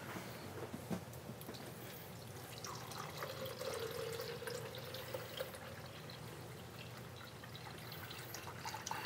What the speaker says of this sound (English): Fill montage happening. Slowly going to it. Just let it pour over.